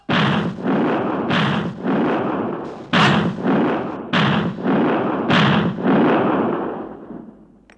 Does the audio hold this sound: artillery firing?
yes